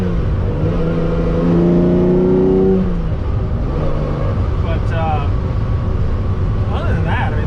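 A Ferrari 365 GTC4 engine revving and accelerating, its rising tone climbing for a few seconds, then settling into a steady drone under background noise, with a faint voice at times.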